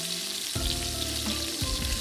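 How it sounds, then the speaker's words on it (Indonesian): Spice paste frying in a pan over low heat for vegetable soup, sizzling steadily and close with stirring scrapes throughout. "Sebelumnya ini aku mau goreng bumbu buat sayur sopnya dulu. Kita goreng-goreng dulu ya, jangan sampai ini gosong."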